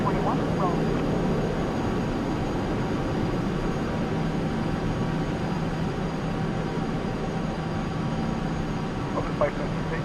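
Jet engines of a CRJ 700 regional airliner in a Flight Simulator X takeoff: a loud, steady engine roar and whine that fills the whole clip, with voices talking over it.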